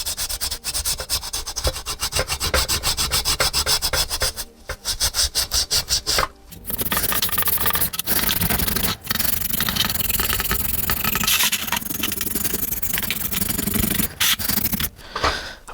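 A Scotch-Brite pad scrubs a Vittorazi Moster paramotor engine cylinder soaked in gasoline, giving close, steady abrasive rubbing strokes that run continuously with a couple of brief pauses.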